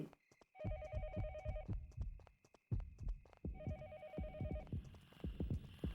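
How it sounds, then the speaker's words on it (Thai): Telephone ringing in the horror video game Yomawari: Night Alone, two bursts of rapid trilling bell tone separated by a pause, over a heavy, throbbing heartbeat-like pulse and footstep-like thuds. "นี่มันเสียงโทรศัพท์เหรอ"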